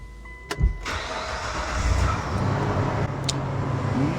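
A Gen 3 Mitsubishi Montero starts up after an exhaust manifold replacement. The starter cranks in a short burst, the engine catches, and it settles into a steady, close idle rumble.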